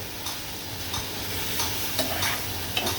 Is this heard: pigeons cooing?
no